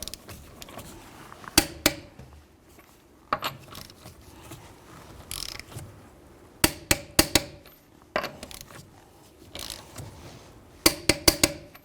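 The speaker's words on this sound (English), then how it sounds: "we're going to torque our lug nuts to 94 foot-pounds" A torque wrench tightens the lug nuts on a 2011-2017 Honda Odyssey in a crisscross pattern, ratcheting in short bursts and ending in sharp clustered clicks, with quiet pauses between each nut and no talk.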